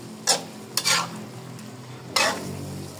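Callos, a beef tripe stew, is stirred in a pan, with three distinct scraping swishes of a utensil over a low, steady simmering sizzle.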